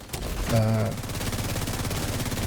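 An ACS gun in a video game fires a sustained rapid burst of shots, with a brief voice heard near the start over the gunfire.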